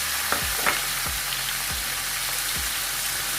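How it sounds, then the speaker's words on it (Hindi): Chicken goes into hot oil with a loud, steady frying sizzle. Several soft thumps and stirring clacks come close in the pan. "ये देखिए ऑयल गर्म हो चुका है। अब हम इसमें चिकन को ऐड कर देंगे।"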